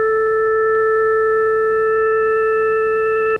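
A Synclavier synthesizer holds a bright, steady tone built from a sine wave with its sixth harmonic added, sustained evenly and loudly for over three seconds before stopping suddenly.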